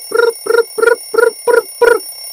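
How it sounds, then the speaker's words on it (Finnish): An alarm clock rings in six evenly spaced bursts of bright, buzzing tone, each about a quarter second long, loud and close with nothing else heard. "Herätyskello soi."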